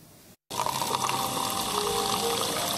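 Water runs from a kitchen or bathroom tap, starting abruptly after a brief silence and then gushing in a steady, loud, close stream that fills the sink for a few seconds.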